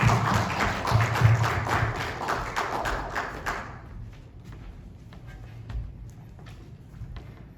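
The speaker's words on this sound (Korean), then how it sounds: "오늘도 큰 박수로 맞이하겠습니다" A church congregation claps to welcome a preacher, a dense burst of hands for about three and a half seconds that cuts off abruptly, leaving a quiet hall with a few scattered soft taps.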